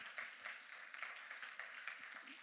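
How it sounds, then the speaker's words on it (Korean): Applause from a church high school youth group at a retreat worship service, faint and steady with soft scattered claps rising and falling over a few seconds. "우리 하나님께 영광과 박수 올려드리겠습니다"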